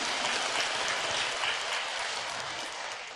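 An audience at a Buddhist temple dharma talk claps steadily as a dense wash of applause, fairly loud at first and gradually tapering off toward the end.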